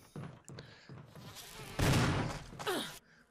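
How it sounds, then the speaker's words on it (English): A droning, buzzing sound of giant bees at a giant beehive in the video game Resident Evil HD Remaster swells and fades over a few seconds, loud and close, with a sharper burst in the middle and no talking. "Giant bees in the giant beehive."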